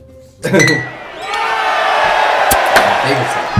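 Glasses clinking together in a toast, a sharp bright clink followed by a loud, sustained rush of crowd-like noise and voices.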